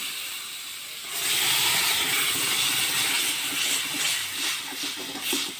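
Marinated bhedailota and narasingha leaves with fish hit hot oil in a village kitchen, setting off a loud, steady sizzle that jumps in after a quiet second and keeps hissing with small crackles.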